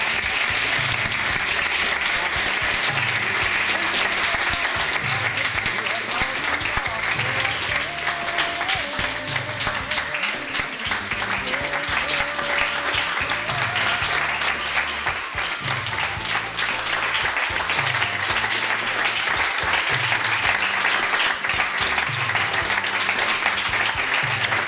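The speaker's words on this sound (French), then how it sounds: "grand applaudissement" A crowd applauds loudly and continuously at a Muay Thai gym, steady dense clapping sustained for about twenty-five seconds with no talking over it.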